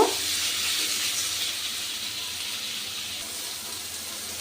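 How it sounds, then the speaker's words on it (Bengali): Water lily curry cooking in a pan, a brief, steady, fairly loud hissing sizzle at close range with no talking. "এবার আমি একটু নেড়ে দেব"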